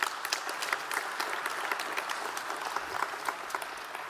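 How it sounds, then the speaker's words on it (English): An audience at a political speech applauds warmly, dense steady clapping from a sizeable crowd continuing throughout. "Let's give him another round of applause for his generosity."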